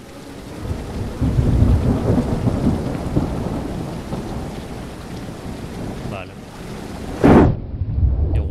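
Rain pours steadily with deep rolling rumbles of thunder in the horror video game Horror Tales: The Beggar, then a sharp loud crack near the end before the downpour continues.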